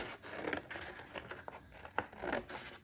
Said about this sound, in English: I'm gonna grab some scissors